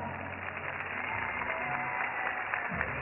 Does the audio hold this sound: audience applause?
yes